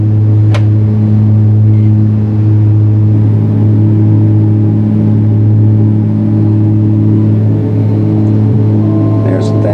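Single aircraft engine at takeoff power during the climb out, a steady loud droning hum with strong low tones holding evenly throughout, under cockpit talk.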